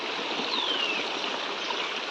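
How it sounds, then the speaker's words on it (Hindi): A mountain stream in Uttarakhand, near the path to a hill temple, rushes steadily and close by as a continuous broadband wash of water with no pauses and no voices. "यहाँ पे हमारा धारा है"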